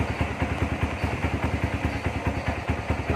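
A Honda CRF motorcycle engine runs at a steady idle just after starting. Its rapid, even exhaust pulses carry a mechanical clatter, close and fairly loud, with no voices.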